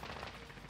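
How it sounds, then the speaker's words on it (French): Distant gunfire from a nearby fight in a shooter game, a dense, muffled burst of rapid shots that stays faint and continuous with no voices over it. "Là, ça fight, il y a les voisins qui sont au combat, les gars."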